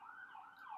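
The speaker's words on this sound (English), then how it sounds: "I'm sorry if you can hear these sirens" Emergency vehicle sirens wail outside, a faint, distant rising and falling tone heard briefly and softly with no talking.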